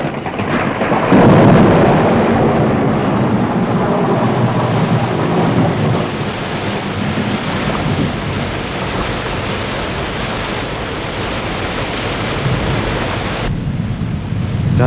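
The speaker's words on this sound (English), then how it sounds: "Starting to rain." A heavy rainstorm roars in a loud, continuous wash of noise. A rumbling swell near the start may be thunder, and the downpour holds steady for the whole stretch with no voices.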